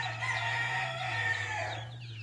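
Chickens from a second batch of farm birds cluck steadily while a rooster crows, a dense, continuous poultry chorus close by under a constant low hum.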